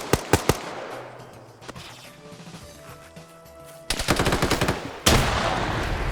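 Arma 3 firefight: a few sharp gunshots open, then quieter rumble before a loud grenade blast, followed by rapid bursts of gunfire and a second heavy explosion with a long echoing tail.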